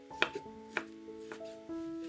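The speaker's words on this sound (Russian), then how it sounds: "200 грамм ветчины нарезаем небольшими кубиками." Knife chopping 200 grams of ham into small cubes on a board, a few sparse close taps over a faint background tone.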